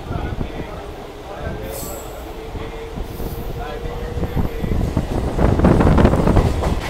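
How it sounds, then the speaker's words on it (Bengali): A local train runs through Andul railway station, its wheels and carriages rumbling steadily, building louder toward the end, with wind buffeting the microphone and a faint high squeal early on. "আমাদের ট্রেন চলে এসেছে আন্দুল রেলওয়ে স্টেশন।"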